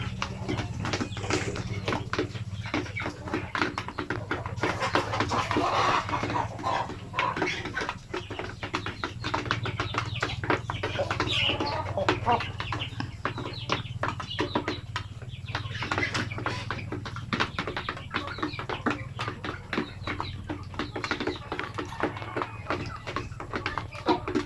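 Shamo aseel chickens mixed with basilan and sampin breeds cluck and shuffle close by in a busy, continuous patter of short calls and scratching, with a low steady hum beneath.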